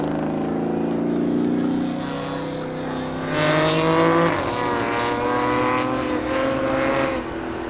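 Ford and Audi drag racing cars roar at Oxford Plains Speedway spectator drags, engines droning and revving with shifting pitch as they race, loud and nearby, a second engine note rising partway through with no talk.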